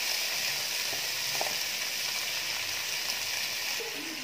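Sliced medium onions and tomato fry in a pan of hot oil for fried chicken biryani, giving a steady, even sizzle that stays fairly soft and close throughout.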